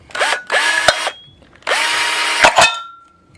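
A handheld drill bores a hole in metal for a one-quart DIY gasifier wood stove, whining loudly in three separate bursts with short pauses and a clunk as each burst ends.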